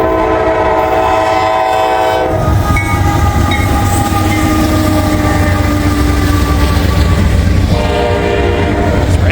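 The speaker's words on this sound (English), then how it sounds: "Intermodal train here." A long Norfolk Southern intermodal freight train rumbles past close by, its continuous heavy rolling noise and clattering wheels steady throughout, with a brief horn-like tone near the start.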